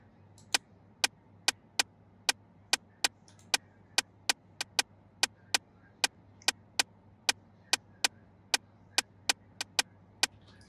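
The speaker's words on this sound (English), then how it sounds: "So I added this percussion" A chopped percussion sample, a short sharp knock like a woodblock or rim, hits about two dozen times in a steady even pulse in an FL Studio beat, clear and dry over a faint low hum, no voices.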